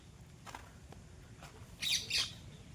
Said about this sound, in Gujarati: પોપટું કેમ બોલે બાકી?